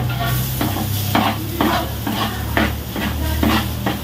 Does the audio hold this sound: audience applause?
no